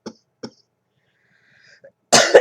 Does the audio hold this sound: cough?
yes